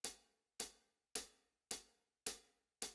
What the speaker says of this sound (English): The hat on its own sounds like this.